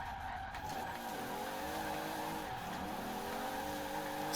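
Toyota Supra mk3 with over 1200 hp drifting, its tires squealing in a long continuous skid alongside the sustained engine drone, loud and close.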